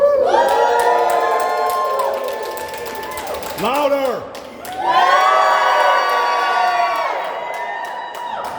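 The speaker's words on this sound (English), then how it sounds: "So please give yourself a huge round of applause." At an anti-poverty rally in New York State, a crowd cheers and whoops loudly in sustained waves, with shouting voices riding over the noise, a brief dip in the middle, then another strong surge of cheering.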